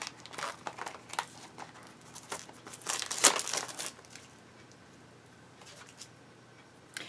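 Cellophane wrap sealing a Disney Doorables toy package crinkles and tears in a run of close, brittle rustles that peak in one sharp rip, then dies down to faint scattered crackles.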